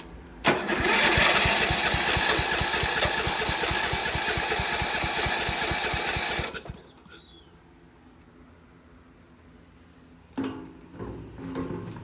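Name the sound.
Murray lawn mower engine cranking with starter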